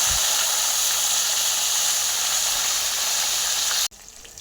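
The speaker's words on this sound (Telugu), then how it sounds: "ముక్కుడులో నూనె పోసుకొని వంకాయలు వేసుకోవాలి. అవి దోరగా వేయించుకోవాలి." Brinjals fry in hot oil in a kadai, giving a loud, continuous hissing sizzle that stops abruptly near the end, leaving only faint quiet.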